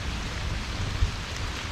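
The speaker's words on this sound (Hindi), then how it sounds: "क्योंकि बिन मौसम बारिश आ रही है।" Unseasonal rain falls steadily outdoors among trees and leaves, a dense, even hiss of drops with one brief louder thump, no voices.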